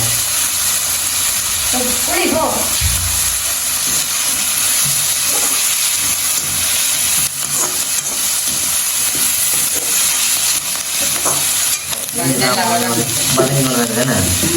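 Curry leaves sautéing in a pan for a leftover idli podi dish, a continuous close sizzle and hiss running throughout, with intermittent talking over it.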